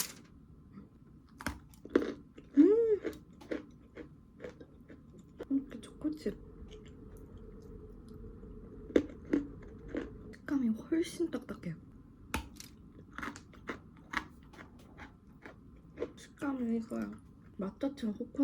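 Quiet, close crunching and chewing of a crisp coffee Oreo cookie, with sharp intermittent bites and soft mouth sounds between them.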